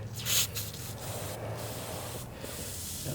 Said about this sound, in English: Alright, so we're going to spray it on here.